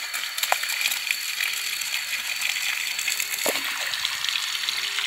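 Water gushing steadily out of a hose in a forest, a continuous bright splashing rush with a few small knocks and rattles, no voices.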